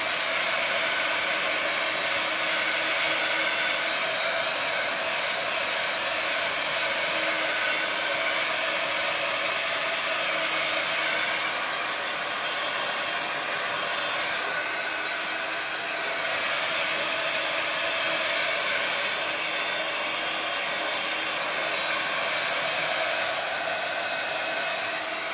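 A hair dryer blows steadily and loudly at close range for the whole stretch, drying the paint on a shabby-chic vintage planter, with a slight dip in intensity midway and no talking.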